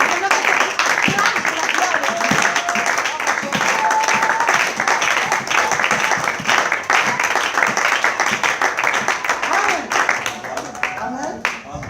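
A church congregation applauds and cheers together after a prayer, a dense, continuous wash of clapping with crowd voices mixed in, tapering slightly toward the end.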